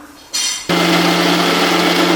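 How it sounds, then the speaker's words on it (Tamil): After a quiet start, a brief buzz, then a mixer grinder motor roars to full speed grinding sautéed onion and tomato, with a loud, steady whine and hum. "இப்போ குழம்புக்கு தேவையான வணக்கி வச்ச வெங்காயம் தக்காளி அரைச்சிக்கலாம்"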